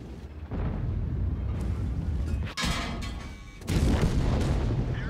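A tank cannon fires and hits an enemy in World of Tanks, played in a T95/FV4201 Chieftain, with heavy booms and a sharp crack amid rumbling battle noise, close and loud, no talk.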